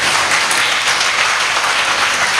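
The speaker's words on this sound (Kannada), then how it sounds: "ಚಪ್ಪಾಳೆ ಮೂಲಕ ಅಭಿನಂದನೆ" Audience applause at an annual scholarship distribution ceremony honouring a guest, a steady dense wash of clapping from many hands throughout, loud and continuous with no speech.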